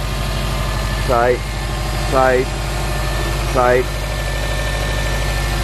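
A Subaru STI with Stage 2 upgrades and a catted downpipe idles steadily up close, a constant low rumble with brief spoken voices heard over it three times.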